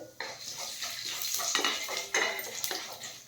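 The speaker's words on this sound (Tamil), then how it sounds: "இதில் நம்ம எடுத்து வச்சுருந்தா கருப்பு உளுந்தை வறுத்தரலாம்." Black urad dal is stirred and roasted with oil in a metal kadai, with close clinks and scrapes of a spoon against the pan over a faint frying rustle and no talking.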